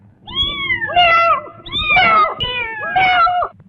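A human voice imitates a cat, giving three drawn-out, wavering meows in a row, close and loud.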